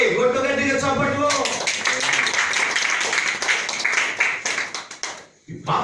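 A church congregation at a Christmas sermon bursts into loud, rapid clapping after a short spoken line, the dense claps running for several seconds before stopping abruptly.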